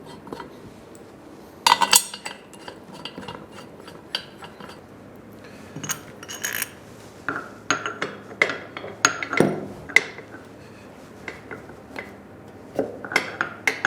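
Screws being fitted into the frame of a BMW R 1150 GS motorcycle, heard as scattered metallic clinks, taps and tool knocks at close range, irregular and sharp throughout with no talk.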